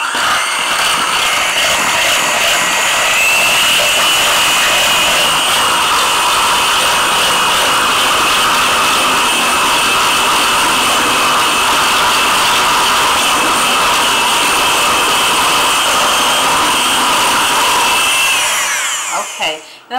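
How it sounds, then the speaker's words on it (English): An electric mixer blends cream cheese, brown sugar, vanilla and egg, a loud continuous whirring drone close up that holds steady for the whole stretch before cutting off at the end. "you're going to come in here and blend this all together and get it smooth"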